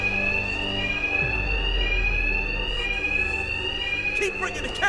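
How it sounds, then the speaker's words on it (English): An alarm blares continuously in Batman: Arkham Knight, a loud, steady electronic tone that sounds throughout, with voices talking over it. "Covered by the noise of the alarm."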